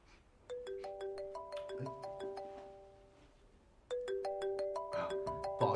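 A mobile phone ringtone plays a bright, repeating melodic chime pattern in two bursts, the second louder, against a quiet indoor room with faint background sounds.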